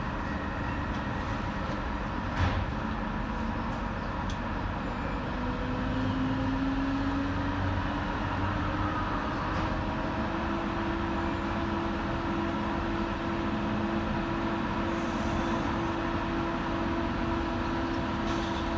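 Steady low rumble and hiss inside a DLR light rail train between Stratford and Canary Wharf, a continuous interior drone with faint whines and a couple of soft knocks, no voices.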